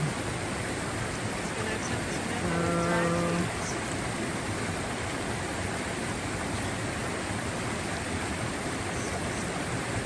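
Steady rushing creek water fills the whole stretch during a deep hiking creek crossing, a constant broad wash with a brief tonal sound near the start rising over it.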